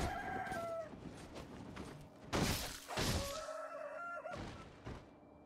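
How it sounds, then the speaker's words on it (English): Giant chickens in Sekiro: Shadows Die Twice cluck and squawk in short bursts, mixed with sharp crashing impacts, fairly faint within game ambience. "So yeah, giant chickens."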